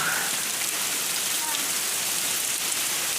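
Rain mixed with small hail pours down steadily during a storm, a dense, even hiss of falling water and pellets with no pauses, loud and continuous throughout.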